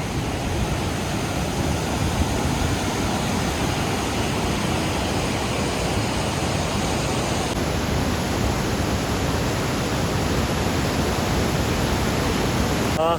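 Swollen mountain stream with rising water on a trek from Astore toward Kashmir via Shuntar Pass, giving a steady, dense roar of rushing water heard close and continuous throughout.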